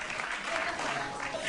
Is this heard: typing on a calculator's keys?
no